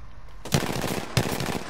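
Hemlok rifle in a shooter video game firing single shots, two heavy close gunshots about half a second apart with a rumbling tail.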